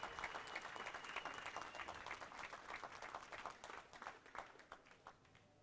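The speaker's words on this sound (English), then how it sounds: "Ladies and gentlemen, we have a nice round of applause for our four top finishers" Audience applause at the close of a world 10-ball pool championship, honoring the top four finishers: steady, moderately distant clapping from a crowd that holds for several seconds and slowly thins toward the end.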